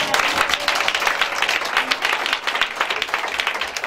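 A church congregation at a Sunday service bursts into sustained, lively applause, many hands clapping together in a loud, even wash with faint voices mixed in.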